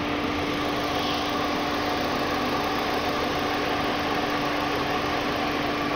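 A car engine idles steadily while warming up to operating temperature during a head gasket leak test, a constant low hum with a faint high whine and no talking.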